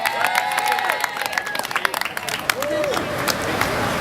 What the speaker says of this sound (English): can we get a round of applause for the whole hog tonight?